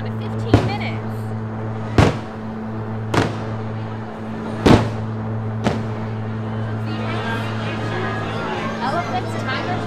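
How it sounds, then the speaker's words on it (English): Fireworks over Magic Kingdom at Walt Disney World, heard from a distance as four or five sharp booms spaced a second or two apart over a steady low hum and crowd murmur. "The time to go on the Jungle Cruise is during the fireworks. They're going on right now"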